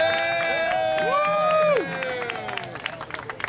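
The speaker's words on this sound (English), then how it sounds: "Big round of applause for Layla Lewis." A crowd applauds and cheers at an outdoor Memorial Day parade ceremony, clapping and shouts rising over sustained, wavering tones that fade out, then scattered claps carry on.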